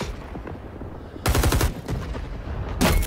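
Rapid automatic gunfire from Rising Storm 2 rattles out in two loud bursts, the first a close sharp string of shots and the second shorter, separated by quieter low rumble and distant noise.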